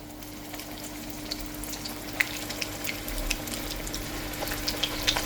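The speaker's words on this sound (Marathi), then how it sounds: "आतां दुसरो स्टार्टर आमचो डीप फ्राय करून घेवपाची हे पळय तेल गेल्लें ऑलरेडी" Prawns deep frying in hot oil on a Goan home stove, a steady close sizzle with scattered small pops and crackles throughout, no voices.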